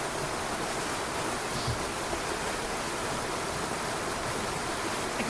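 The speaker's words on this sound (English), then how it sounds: "The sound of falling water echoes around me" Falling water roars steadily inside a dark cave behind a waterfall, a dense unbroken rushing wash that echoes all around at close range.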